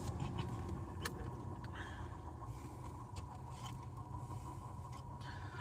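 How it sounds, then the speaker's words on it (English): Cars on a road pass a vehicle parked at the roadside, heard as a continuous low traffic rumble with faint swells of tire and engine noise and a few light clicks, with no talking. "I'm trying to wait to see more cars drive by."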